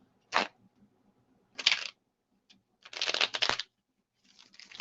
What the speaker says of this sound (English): And now I'm shuffling the Right Away Tarot deck.